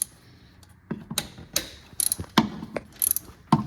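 Sparse, sharp ratchet clicks loosening an alternator belt bolt on a B-series engine, close and moderately loud, arriving in short irregular bursts with quiet gaps between them.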